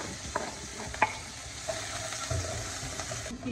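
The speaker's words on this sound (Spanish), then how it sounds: "ya tenemos el sartén con aceite para empezar a tatemar cebolla y ajo" Onion and garlic fry in oil in a skillet, a soft continuous sizzle with a few sharp clicks and stirring scrapes, fairly quiet and without speech.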